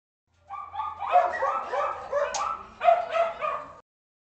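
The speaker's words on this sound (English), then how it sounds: "It's those dogs again. They're so annoying." Several dogs bark and yip in an excited, irregular run of about three seconds, sounding fairly close and loud with no talk over them, then stopping abruptly.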